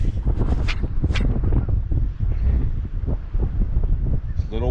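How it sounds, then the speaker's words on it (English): Gusty wind buffets the microphone outdoors at a campground, a steady rumbling roar throughout with faint voices underneath. "Little windy again"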